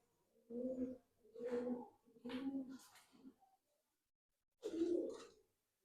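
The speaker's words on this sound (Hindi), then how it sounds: "और आगे से ये कबूतर है।" Kamagar pigeons coo nearby in a quiet setting, four throaty coos in quick succession followed by a pause and one more, with no people speaking.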